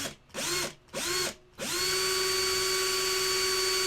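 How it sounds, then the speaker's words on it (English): A power drill whirs in three short bursts, pitch rising and falling, then runs in one long steady high whine, close up, boring into wood. "I can just drill the wood"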